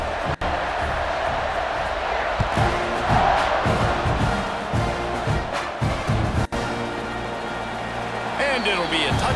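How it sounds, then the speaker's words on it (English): Stadium crowd in a college football video game, a steady dense roar and murmur of many voices sustained throughout, with a commentator's voice over it. "this crowd is buzzing after that last score"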